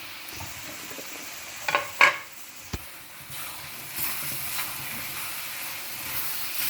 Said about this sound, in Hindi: अब इसमें जो गोभी हमने डबल टाइम फ्राई की थी वो हम डाल रहे हैं।